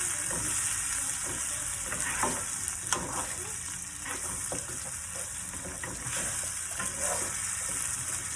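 Steady broadband sizzle of food frying in a pan on medium heat, with scraping stir strokes breaking through every second or so; close, continuous and without talk.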